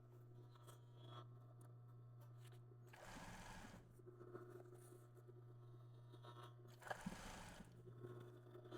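Two short bursts of rapid sewing machine stitching on fabric for a plus-size body garment, quiet and close, separated by a pause with steady low motor hum and faint handling sounds.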